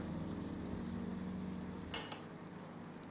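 Ground tomato tipped into a pan of frying ginger and garlic for chicken gravy sets off a steady close sizzle, then a short sharp splash and crackle near the end as the paste hits the hot oil.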